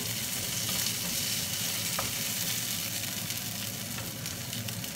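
Onion fries with pork in a pan for pork nilagpad, a dense continuous sizzle with crackling spatters, close and steady throughout with no talking.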